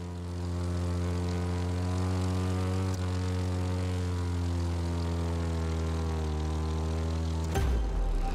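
Propeller airplane engine in The Crew 2 video game during knife-edge flight, a loud steady harmonic drone holding pitch with a slight dip midway, then a sudden cut with a thump near the end.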